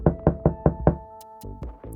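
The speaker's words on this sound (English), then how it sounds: "a loud knock jolts them out of the movement" Five loud, evenly spaced knocks on a door ring out alone in quick succession as an audio drama effect, followed by quieter scuffling sounds.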